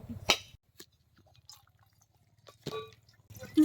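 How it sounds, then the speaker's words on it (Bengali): Liquid drips and trickles as water drains from a freshly cracked coconut in a home kitchen, with a few brief splashes and a faint low hum between them, close and quiet. "নারকল ফাটিয়ে নারকলের ভিতরে জলটা বের করে নেবো"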